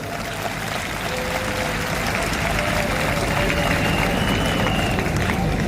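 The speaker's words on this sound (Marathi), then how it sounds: "जरा शिक्षक वृंदांकरता जोरदार टाळ्या वाजवा." A school annual day audience applauds its teachers in a dense, steady patter of clapping that stays even throughout, heard from within a large hall with a faint tonal hum underneath.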